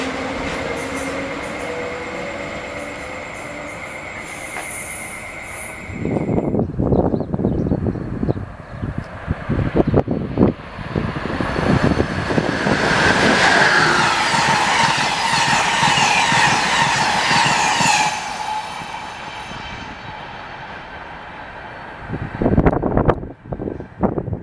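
An NJ Transit train with an ALP-46 electric locomotive passes near Hamilton, its wheels roaring and squealing loudly on the rails for several seconds before fading, with quieter stretches before and after.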